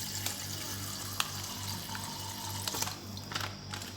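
Milk poured from a carton over cauliflower gratin in a home kitchen, a soft steady liquid splash and trickle running continuously at close range over a low background hum, without any talking.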